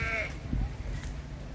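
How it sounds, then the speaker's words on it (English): A sheep on an orchard farm gives one short, wavering bleat near the start, followed by low background noise outdoors. "Is that a goat or sheep? Oh, that's sheep."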